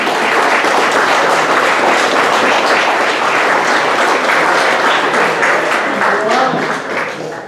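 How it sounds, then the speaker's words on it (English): Audience applause at an NCAN event, a full, sustained wash of many people clapping, loud and even, fading a little in the final second. "Why not give a round of applause to yourselves for being here and helping us?"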